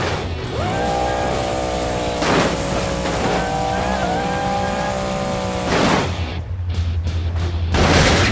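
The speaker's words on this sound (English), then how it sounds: "what an epic crash by Max-D" In the BeamNG Drive video game, the Max-D monster truck engine roars at a sustained high pitch, broken by several heavy crashing impacts, then hard slams and rumbling as the truck wrecks, loud and close, with no voices.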